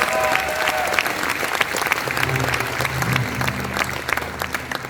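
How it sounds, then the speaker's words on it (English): Applause from an audience at a jazz concert, a lively clatter of many hands clapping at close range with scattered sharp claps, while faint tones and a low hum sound beneath. "one more round of applause for that"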